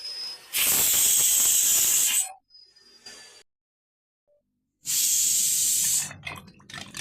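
A pressure cooker with mixed lentils and chakvat greens vents steam in two loud hissing bursts, separated by a stretch of near silence with a few faint sounds.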